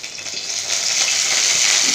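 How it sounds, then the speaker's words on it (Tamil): Shredded cabbage and carrot fry in a hot pan, giving a steady, close sizzle that grows slightly louder and denser over two seconds, with no voices. "கோசு கேரட்டு போட்டு பொரிக்க போகிறேன்."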